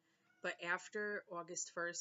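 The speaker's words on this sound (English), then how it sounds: "Excuse the cat." A house cat meows several times, close and clear, with the meows mixed in among a person's speech.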